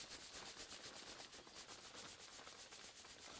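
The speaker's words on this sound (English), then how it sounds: "I'm just massaging it's a minor acid." Hands rubbing and massaging a mild acid ointment into skin, a close, soft, continuous rubbing hiss with gentle rhythmic strokes, quiet and without talk.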